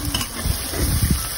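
Tomatoes sautéing in a pan with butter for Filipino-style chicken biryani, a steady close sizzle with scraping stirs that rise and fall across a brief stretch.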